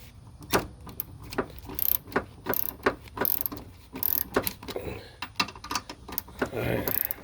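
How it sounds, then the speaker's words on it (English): A hand ratchet clicks in quick irregular strokes while loosening a shock bolt on a 2010 Range Rover during an air suspension install, close and fairly quiet, with brief pauses between bursts of clicking. "let me loosen this one up and try to catch it from the bottom"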